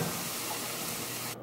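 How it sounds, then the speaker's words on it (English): Steady, close sizzling and hissing from vegetables and cherry tomatoes frying in a pan, continuous and fairly loud, cutting off abruptly at the end. "Here comes the sizzle."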